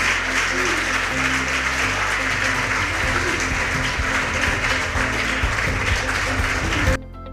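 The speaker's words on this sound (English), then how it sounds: "A round of applause for these contestants." Loud, continuous applause for junior high school contestants at a quiz competition quarterfinal, steady clapping blended with a constant background hum, cutting off abruptly near the end.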